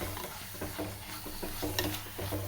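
A spoon scrapes repeatedly through thick masala curry in a hot pan, rhythmic close stirring strokes over a continuous low sizzle of frying.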